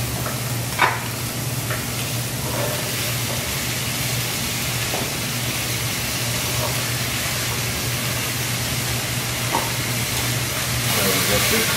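Pork shank and vegetables frying in a hot pan, giving a steady, loud, continuous sizzle with occasional stirring clicks throughout, with no talk over it.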